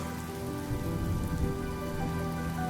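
Steady rain falls in Honkai Star Rail, a dense, even hiss of drops on surfaces that holds at the same level throughout, with no voices.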